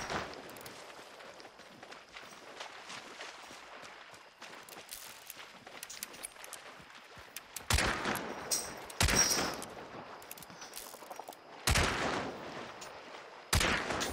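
Gunfire in the video game Hunt: Showdown, with sharp, loud shots cracking out at irregular intervals over a quieter bed of movement and faint background noise. There is no talk.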